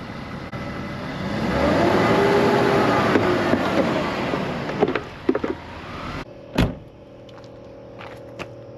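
A BMW E39 rolling onto ramps over a gravel driveway, a steady close engine drone with crunching tyre noise that swells and then stops abruptly, followed by a few short knocks.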